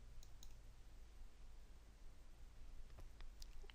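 A computer mouse clicks while room-design software is used: a few faint, sharp clicks early on and a couple more near the end, over a low steady hum.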